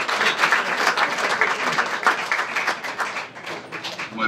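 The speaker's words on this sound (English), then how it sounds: "give Paul a big round of applause" An audience gives a sustained round of applause at a talk on the politics of COP21 in Paris, dense clapping continuing steadily throughout without speech.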